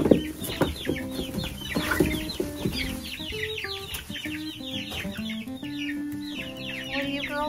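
Hens cluck and chatter in a coop, with repeated overlapping calls and short squawks at close range, busy and continuous throughout.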